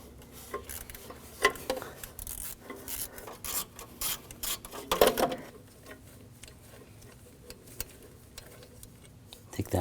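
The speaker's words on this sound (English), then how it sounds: "Loosen the bolt right here on the shield." Ratchet and E8 socket loosening a bolt on the oxygen sensor heat shield of a 2007-2013 BMW 328i 3.0L inline-six, heard as close, scraping ratchet clicks and metal rubbing in irregular bursts, with faint background voice.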